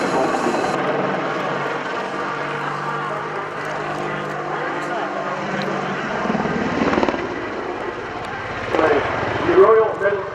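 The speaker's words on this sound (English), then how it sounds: "the Royal Netherlands Air Force Apache Ah this machine" Royal Netherlands Air Force Apache helicopter at the RIAT 2016 Fairford airshow, a steady distant rotor and engine drone growing louder toward the end under a commentator's voice.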